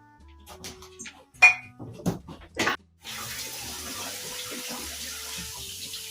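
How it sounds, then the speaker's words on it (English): Tap water pours steadily into a stock pot for chicken stock, a constant hiss and rush that starts abruptly after a few clinks and knocks of the pot being set in place. "I'm going to start getting some water into the pot so we can start getting this heated up."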